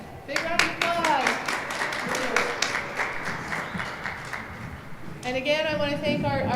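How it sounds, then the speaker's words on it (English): Audience at a county spelling bee claps in a scattered, fairly close round of applause while people talk over it throughout. "All right, big round of applause."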